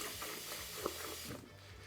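Cold water runs from a kitchen tap while making elderflower cider, a short, soft hissing stream that thins out near the end.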